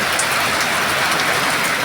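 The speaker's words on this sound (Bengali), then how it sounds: "আজকে আবার বৃষ্টি এবং মুসুলধারায় বৃষ্টি" Dense, loud downpour of heavy rain drumming continuously on surfaces, seen from a rooftop, with no voices.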